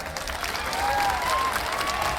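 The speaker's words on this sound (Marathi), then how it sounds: "महिलांनो माईच्या तुम्ही एकदा टाळ्या वाजवा." A crowd at a public event claps together in sustained, dense applause that holds steady throughout, with a faint whistle-like tone drifting above the clapping.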